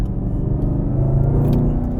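A 2023 Chevy Camaro ZL1 1LE produces a steady, loud, deep engine rumble, close and continuous, with no voices over it.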